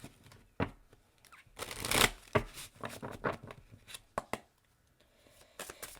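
Tarot cards being shuffled by hand in bursts of crisp, riffling rustles and sharp taps, close and fairly loud, with short quiet gaps between shuffles and no talking.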